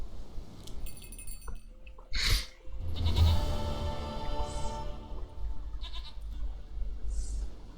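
A goat in The Witcher 3 gives a couple of wavering, nasal bleats over a low ambient drone, close and clear, with faint rustling and game background noise between the calls.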